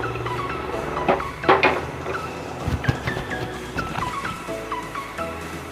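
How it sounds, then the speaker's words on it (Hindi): Popcorn is tossed with chaat masala in a metal pan, producing rattling scrapes and clinks of a utensil against the pan in uneven bursts, fairly close and without speech. "अब हम इसमें चाट मसाला डालेंगे और इसे अब हम अच्छे से मिक्स करेंगे"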